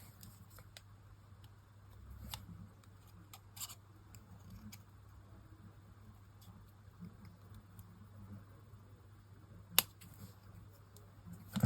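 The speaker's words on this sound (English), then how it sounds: "We need to cut this bit out." Small scissors snip out a paper craft silhouette shape, giving faint sparse clicks and crisp cuts against a quiet room hum, with one sharper snap near the end.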